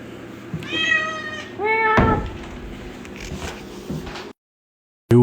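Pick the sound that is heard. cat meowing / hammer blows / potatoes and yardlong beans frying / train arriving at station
cat meowing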